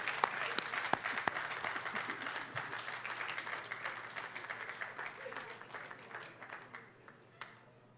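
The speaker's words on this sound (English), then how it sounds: "Let's give him a big round of applause, Mr. Justice Rosser." Audience applause at a school graduation ceremony, a steady spread of many hands clapping that gradually thins and fades over several seconds, with faint voices beneath.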